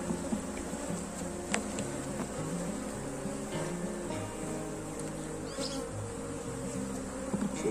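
Honeybees buzz steadily around an open hive while a new colony is set up with brood frames and foundation wax, a dense, continuous insect drone close by with no talk.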